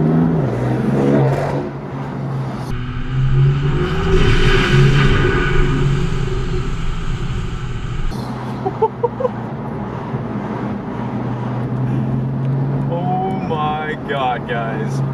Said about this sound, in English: not only is that turbo spool absolutely insane, and I really hope it's coming out on camera